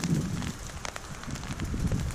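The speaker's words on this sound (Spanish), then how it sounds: "Ahora mismo está cayendo granizo" Hail falls in hurricane-force wind on Maigmó mountain, a dense, steady patter and rushing roar with gusty buffeting against the microphone, continuous and fairly close, with no voices.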